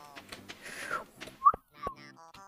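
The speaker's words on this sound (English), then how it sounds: "Apologies for the whistle." A person whistles during a speedrun game session: several short pitched whistle notes in an uneven run, including a sharp loud peak, fairly close and mostly alone with brief breathy gaps.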